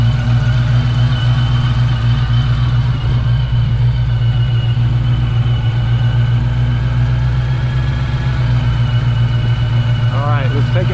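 A Dodge Challenger Scat Pack with a Whipple supercharger and CNC ported heads idles loudly and steadily up close, a deep constant rumble with a brief chirp near the end.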